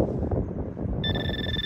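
Metal detector signal tone rising out of steady outdoor wind and rustle, a clear sustained electronic whine that starts partway through and holds to the end.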